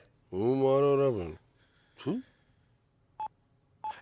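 Two short, clear telephone keypad beeps sound near the end, spaced about half a second apart, after a long drawn-out voice and a brief vocal sound.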